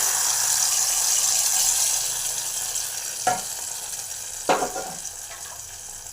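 Sorrel leaves hit hot oil with fried onions in a pan, producing a loud, continuous sizzle up close, broken by two sharp scraping strokes of a spoon stirring the mixture, with no talking.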